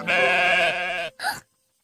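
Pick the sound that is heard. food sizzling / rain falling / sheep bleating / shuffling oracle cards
sheep bleating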